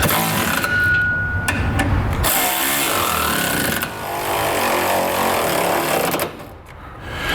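A power tool runs in loud sustained bursts, rattling and buzzing as it snugs up the side bracket bolts of a Curt trailer hitch on a 2015 Chevrolet Silverado 2500, with brief pauses between runs.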